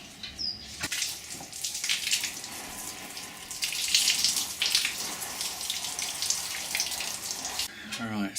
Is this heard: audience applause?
no